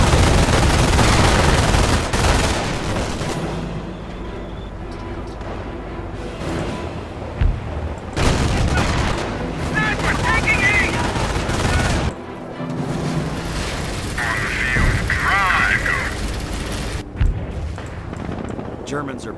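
Dense gunfire and heavy explosions from a World War II battle in the Normandy invasion, the Montebourg map of Company of Heroes, with bursts of rifle and machine-gun fire and booming blasts pounding a base, a voice talking over the din.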